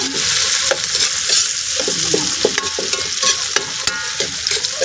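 Meat and black pepper sautéing for ginisang monggo, a loud continuous sizzle close up with repeated scraping and clinking of a spoon stirring in the pan.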